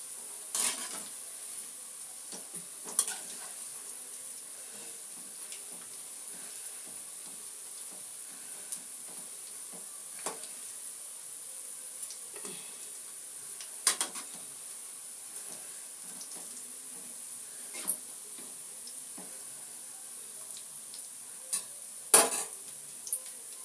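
Onion pakodi frying in hot oil, a faint steady sizzle with occasional soft clinks and stirring scrapes from the pan, no voices.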